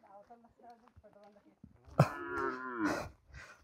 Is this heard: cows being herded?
yes